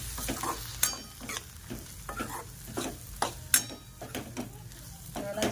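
Ground coconut, garlic, cumin and coriander masala paste roasts in oil over a low flame for a drumstick amti. A soft sizzle runs underneath while a spoon stirs and scrapes in a repeated, irregular rhythm.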